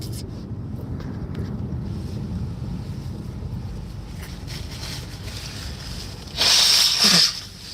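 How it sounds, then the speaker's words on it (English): Strong wind rumbles and buffets a parked car, a low, steady roar against the body with a brief louder gust near the end, heard from inside the cabin without talk. "it's windy. It's pushing my car all around."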